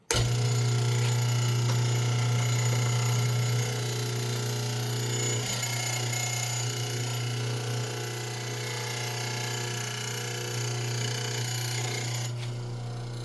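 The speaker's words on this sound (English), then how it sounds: "I'm just going to cut this mortise really quick" A Powermatic 701 mortiser fitted with a milling table cuts a mortise in wood, giving a steady loud mechanical hum and drone with faint knocks of the chisel, close and continuous with no talk.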